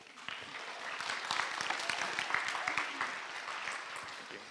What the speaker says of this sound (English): So please give a round of applause for Mesa Hickson.